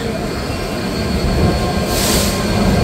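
Kapotaksha Express passenger train hauled by an American Giant 6600 series locomotive, heard as a steady loud rumble of rolling wheels on rail, with a brief brighter hiss or squeal rising near the end.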